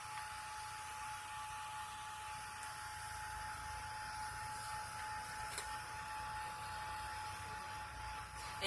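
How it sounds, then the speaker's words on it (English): A heat gun blows steadily over stamped embossing powder, a continuous close, even hiss with a constant whine and no change in level throughout. "just hit it a little bit with the heat gun"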